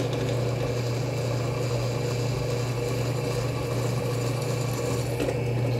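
A hand file marks the hardened part of a steel piece, a continuous close-up rasping scrape heard over a steady low machine drone.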